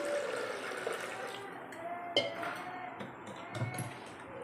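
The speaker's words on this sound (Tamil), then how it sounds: "இப்போ இதில் இந்த அளவுக்கு ஒரு சொம்பு தண்ணி அளவுக்கு தண்ணி விட்டுக்கலாம்" Water pours steadily into a metal pressure cooker, a continuous gushing splash with a faint clink of metal near the middle.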